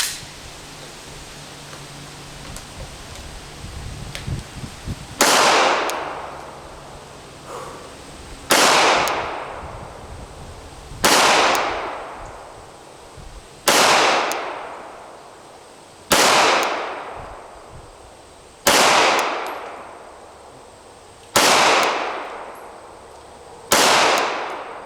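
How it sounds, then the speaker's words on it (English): Glock 17 pistols fire round after round, a series of about eight loud, sharp gunshots spaced roughly three seconds apart, each with a quick decaying ring. "we are going to fire 10 rounds with each of the 3 Glocks that we have"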